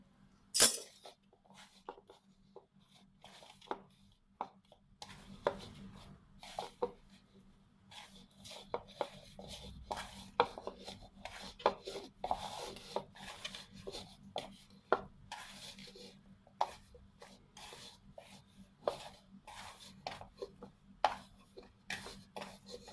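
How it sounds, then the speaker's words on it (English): A hand presses and works curry puff dough in a bowl, giving soft irregular taps, rubs and light knocks close by in an otherwise quiet kitchen. "I'm going to use my hand to form the dough"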